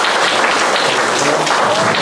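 A museum audience applauds at a Vaslui cultural event, producing dense, loud, continuous clapping that fills the whole short stretch without pause.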